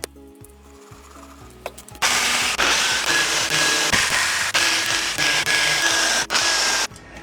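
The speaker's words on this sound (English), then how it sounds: "Using a jigsaw, I cut out some plywood to become the base plate for the tool rest." A jigsaw cuts through plywood for a lathe tool rest base plate. It starts with a few light clicks and knocks, then a loud, continuous rasping buzz runs for about five seconds with brief dips in pitch and volume.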